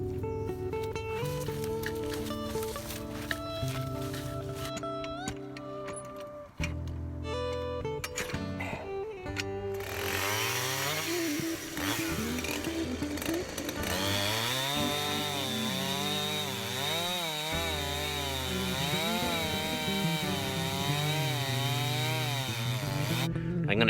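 A chainsaw-powered Princess Auto Alaskan sawmill cuts through a log, the engine droning loud and steady with shifting pitch as the chain bites into the wood, running continuously throughout.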